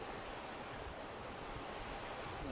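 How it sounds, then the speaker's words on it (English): Strong wind buffets the microphone over a steady roar of waves and rushing water aboard a sailing yacht in 20-knot wind near islands on the approach to Waitangi, a continuous dense noise without pause. "It's quite windy now, it's 20 knots."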